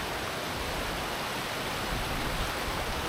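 Steady broadband rush of a glacial river flowing fast over rocks, close and continuous with no break or voices across the short span.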